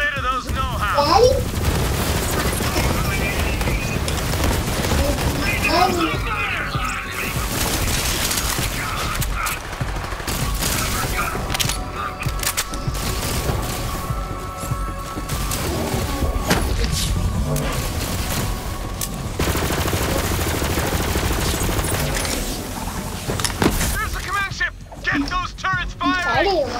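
Automated turrets firing in the video game Borderlands 3, dense bursts of gunfire and rattling fusillades through a chaotic battle, with voices talking over the shooting.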